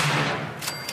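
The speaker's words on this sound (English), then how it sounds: "Why do I hear gunshots on the right like they shooting somebody else?" Gunshots in the video game Fallout 76, a short burst of rapid sharp cracks followed by a couple of separate shots, fairly loud against the game's background.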